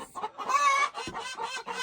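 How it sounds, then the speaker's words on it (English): Chickens cluck and squawk close by in a busy, overlapping chorus, with one drawn-out call rising above the rest. "you can tell that our chickens have quite a bit to say"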